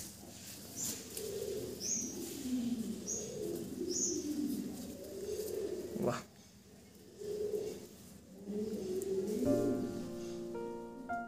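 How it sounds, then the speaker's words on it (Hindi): Fancy pigeons coo in a loft in Nadia, India, with soft repeated low burbling calls and a few brief higher chirps, fairly quiet and close, plus a sharp knock near the middle. "एक बहुत अच्छा सा सेटअप है कबूतर का"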